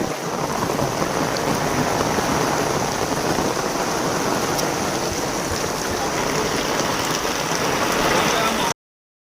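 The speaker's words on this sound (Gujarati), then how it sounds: "200 ની સ્પીડમાં વરસાદ ચાલુ છে." Heavy monsoon rain pours down steadily in a North Gujarat village, a dense, loud, unbroken roar of water striking surfaces that holds at full strength for the whole stretch before cutting off abruptly.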